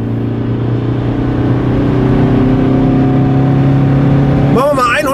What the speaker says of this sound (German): Jetzt kann ich ein bisschen Gas geben.